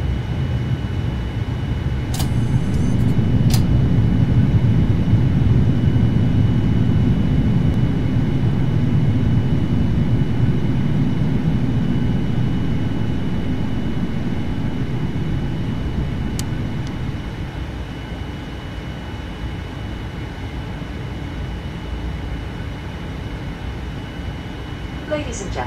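Boeing 787 airliner of Norwegian Airlines in a Prepar3D flight simulator, landing at Oslo and taxiing: a steady low engine rumble that swells then eases to a quieter, even drone, with a few faint clicks and no talk.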